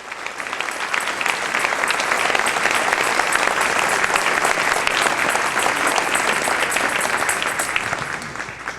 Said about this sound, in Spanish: Denle un aplauso al Rey si lo siente en su corazón.